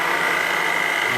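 An electric meat mincer, a keema machine, runs with a steady, close motor whine and mechanical hum for a brief moment, with no other sounds.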